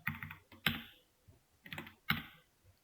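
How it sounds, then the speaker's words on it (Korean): Bursts of computer keyboard typing during a web development lesson, quick clusters of key clicks in two short flurries with pauses between, close and clear with no talking. "제가 타이핑을 끝까지 안 하죠"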